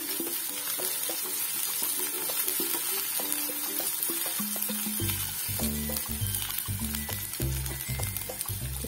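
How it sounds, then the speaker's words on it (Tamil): Ginger, garlic and green chili sauté in a pan for vegetable noodles, a steady close sizzle with intermittent scraping stirs that grow more frequent and louder toward the end, with no talk. "கொஞ்சம் லைட்டாக பச்சை வாசனை போகிற அளவுக்கு வதக்கிக்கோங்க."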